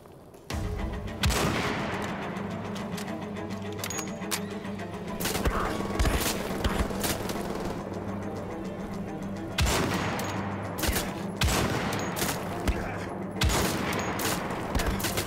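Repeated bursts of game gunfire from a sniper firefight in Wolfenstein: The Old Blood, sharp loud cracks recurring every few seconds over a constant low droning backdrop, with no voice over them.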